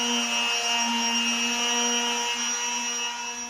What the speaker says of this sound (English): My husband has begun sanding.